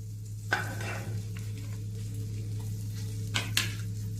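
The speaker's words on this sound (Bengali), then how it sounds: "এবার কিশমিশগুলোকে ভেজে নেব।" Raisins fry in oil over a medium flame with a faint, steady sizzle and a few soft stirring scrapes of a spoon against the pan.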